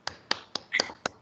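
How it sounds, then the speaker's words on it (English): A few sharp claps, about five in a slow uneven rhythm, thin and close, with one longer burst in the middle. "So let's give them a round of applause"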